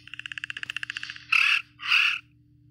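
Coelophysis dinosaur calls in the hunting video game Carnivores Dino Hunter: a fast series of about fifteen croaking clicks followed by two longer raspy squawks, fairly close with no talk.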